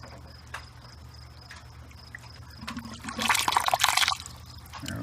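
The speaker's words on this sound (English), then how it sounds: "And the siphon quits. And should shut off here." An aquaponics U-siphon drains water from a grow bed, faint trickling that swells into a gurgling, bubbly rush and then stops abruptly as the siphon breaks.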